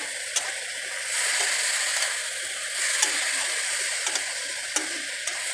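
Chopped tomatoes hit a pan of frying spice mix, giving a steady hissing sizzle with occasional sharp crackles and pops, close and fairly loud, no talking over it.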